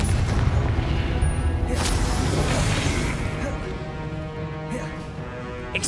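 A Confringo spell blast in Hogwarts Legacy erupts in a loud, booming crash that rolls off into a fading rumble over several seconds, with a voice speaking over the start.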